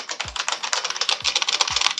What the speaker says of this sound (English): This was my daily keyboard.